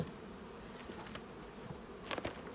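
Honeybees buzz over hive frames as a beehive is opened on a warm spring day, a steady faint hum that holds throughout, with a few brief louder handling knocks near the end.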